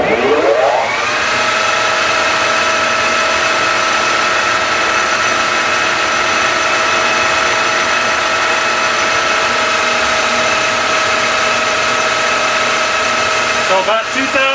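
A drill press extension spins up to about 2,000 RPM, giving a steady, loud, continuous motor whine with a bright tonal hum that holds throughout the cut.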